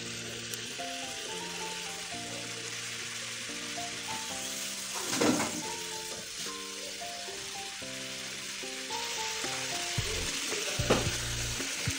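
Chopped capsicum (Shimla mirch) frying with mutton and masala in a pan, making a continuous soft sizzle with occasional stirring clatter and a brief louder burst partway through.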